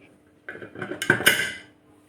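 A metal whistle weight is set onto a pressure cooker lid, giving a short cluster of close metallic clinks and rattles that last about a second, with no talk.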